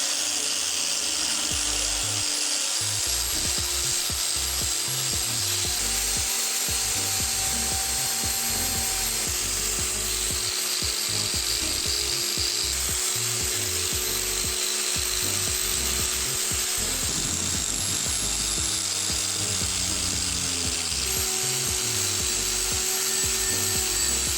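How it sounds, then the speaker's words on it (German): An angle grinder with a wire brush runs continuously on an old axe, a harsh steady whine and scratchy abrasive rasp that holds for the whole stretch without pause. "heute ist es mal die Flex mit dem Drahtbürstenaufsatz"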